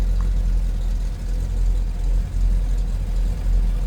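A 1964 Chevrolet Corvette convertible's engine idles with a steady, deep low rumble, close and moderately loud, with no one talking.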